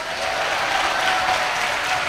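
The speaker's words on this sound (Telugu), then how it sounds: "నోరార స్తోత్రాలు చెబుతూ చప్పట్లు కొట్టండి ఒకసారి గట్టిగా." A church congregation claps loudly together during a sermon, a dense, steady wash of many hands clapping at once throughout, with voices faintly mixed in.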